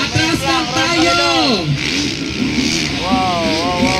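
Engines rev and whine during a novice motorcycle race final at the T'nalak Festival in South Cotabato, rising and falling beneath excited commentators who talk throughout.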